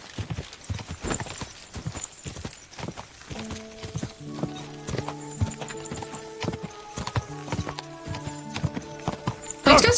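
Horse hooves clip-clopping in Kingdom Come: Deliverance II, a steady walking rhythm of distinct hoofbeats throughout, with tonal game music layered over the later part.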